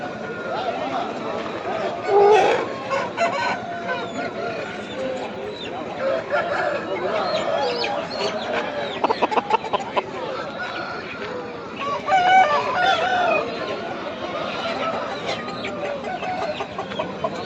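Roosters crow faintly amid a crowded, noisy scene at the Pileru weekly livestock market, Andhra Pradesh, where roosters are sold, with people talking throughout and hens clucking in the background.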